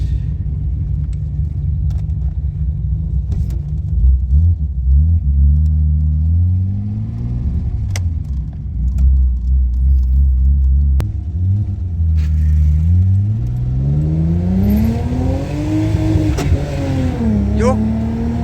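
A car with freshly done suspension work, new ball joints among it, drives on the road, its engine a steady low rumble that rises and falls through gear changes and revving, with people talking inside the cabin throughout.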